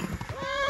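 Horse in Kingdom Come: Deliverance, a few quick hoof clops followed by a rising whinny, close and clear in a brief burst.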